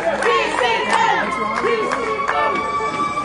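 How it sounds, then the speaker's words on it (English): Wrestling crowd at a ladder match in Jackson, New Jersey cheering and shouting, excited voices and claps rising and falling in waves throughout. "The crowd going wild here at TCW in Jackson, New Jersey."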